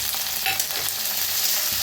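Fresh green peas roasting in a hot pan, a steady close sizzle and crackle with light scraping from stirring, continuous and fairly loud throughout.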